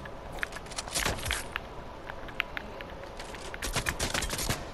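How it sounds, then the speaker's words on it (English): Gunfire in a Fortnite match, rapid bursts of shots mixed with clicks and taps, moderately close, fairly quiet and uneven, clustered at the start and again near the end. "Oh, we're being shot."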